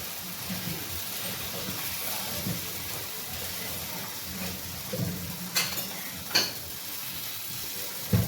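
Diet pancakes cook in a frying pan with a steady, low sizzle, broken by a few sharp clinks and scrapes of a utensil near the end.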